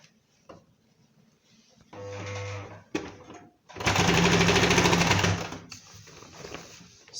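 Sewing machine stitching fabric for an infinity dress in two short runs, a close mechanical whirring hum, with quiet rustling and clicks of fabric handling between the bursts.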